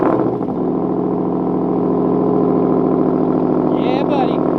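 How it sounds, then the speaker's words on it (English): A 2021 Ford F-150 Raptor idles loudly and steadily after a warm startup, its exhaust giving a deep, continuous rumble close to the listener, with no talking over it. "So this is a not so cold startup because I had to move the TRX earlier, but you know what? It'll suffice to show you guys the exhaust."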